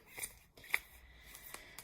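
Shuffling a deck of tarot-style cards, a short run of soft riffling clicks and brushing slaps, fairly close and quiet, with a few sharper snaps of the card edges and no voices.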